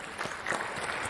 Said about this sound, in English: A big round of applause to you all.